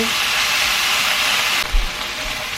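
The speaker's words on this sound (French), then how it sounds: "J'espère qu'on entend bien parce que ça fait beaucoup de bruit la cuisson" Chicken pieces frying in a pan, a loud steady sizzle and hiss that fills the whole stretch, with a few low knocks partway through and no voices.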